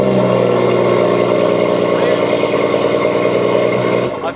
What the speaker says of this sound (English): Foot on the brake, start the engine.